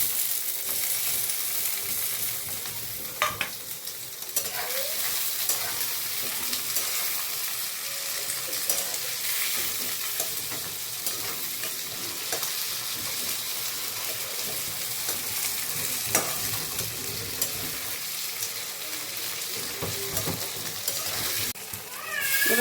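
Tomatoes fry with small tengra fish in a pan, a continuous bright sizzle with occasional stirring scrapes, close and steady throughout.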